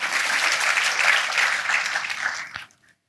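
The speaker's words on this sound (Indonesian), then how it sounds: "Berikan sorak-sorak bagi Allah kita." A church congregation cheers and applauds together in a dense burst of clapping that holds strong for a couple of seconds, then quickly dies away into silence.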